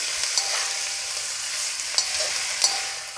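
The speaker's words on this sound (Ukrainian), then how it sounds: "тепер черга моркви. Також трішечки обсмажую" Carrots fry with golden onions in a pan for soup-pilaf, with a soft constant sizzle and a few sharp scrapes as the spatula moves them around.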